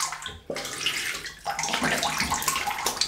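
Cold water runs from a tap while rinsing after a wet shave with a Wilkinson Sword TTO razor, a close splashing flow that surges and breaks as hands move under the stream, with no talking.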